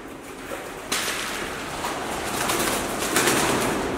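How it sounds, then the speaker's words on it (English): Roosting pigeons fill a large abandoned factory building, with a dense, continuous rustle of wings and cooing that swells partway through and stays loud, echoing through the open interior. "Hopefully you can hear me over the 100 pigeons in here"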